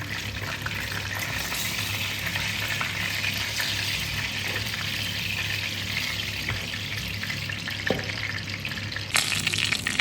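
Continuous loud sizzling of meat-filled dough pastries (belyashi) frying in hot oil, steady crackle and hiss throughout with a brief clatter near the end.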